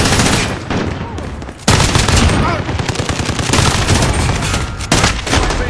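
MG34 light machine gun in a video game firing long, loud, sustained bursts with only brief pauses between them.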